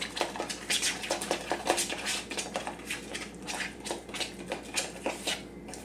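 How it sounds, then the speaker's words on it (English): Sticky walnut coffee cake filling being stirred in a bowl, with quick repeated scraping and tapping of a utensil against the dish in an uneven rhythm, close and fairly quiet. "just go ahead and mix it. It's gonna be a little sticky at first"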